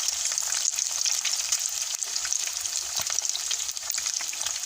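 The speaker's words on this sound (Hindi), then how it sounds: "जैसे कि आप देख सकते हैं ज़रा भी नहीं चिपक रही है और कितनी बेहतरीन हमारी फ्राई हो रही है।" Fish fries in a pan with a dense, continuous crackling sizzle that stays even and close throughout, with no one speaking.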